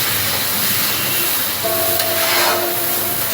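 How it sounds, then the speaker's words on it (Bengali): Onion-garlic paste with Kashmiri chili powder hits hot oil, producing a loud, close, hissing sizzle that holds steady for a few seconds. "এবার দিয়ে দিলাম পেঁয়াজ রসুন বাটাটা। এবার আমি মশলাটাকে কষাতে থাকবো।"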